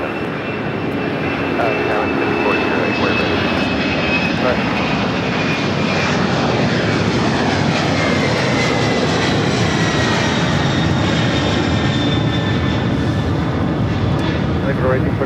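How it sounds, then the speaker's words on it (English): Tom Cargo Boeing 767-300 freighter taking off from runway 25 left at LAX, a loud sustained jet-engine roar with a high whine running through it, under talk. "That was the Tom Cargo 1825 taking off to Miami, Florida on the 767-300 freighter."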